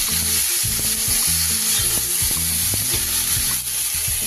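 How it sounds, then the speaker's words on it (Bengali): Fried vegetables for shukto, a Bengali vegetable dish, are tossed and mixed in a hot pan, giving a continuous hiss of sizzling oil broken by repeated scraping and clinking of the spatula, close and steady with no talk. "তার উপরে আগে ভেজে রাখা সবজিগুলো সব দিয়ে এবার খুব ভালো করে মিশিয়ে নিই।"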